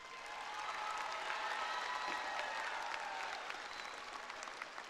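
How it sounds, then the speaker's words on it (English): Sustained audience applause fills a high school graduation ceremony, a steady wash of many hands clapping throughout, dense and moderately loud without speech over it. "please applaud your Matadors for achieving this great success"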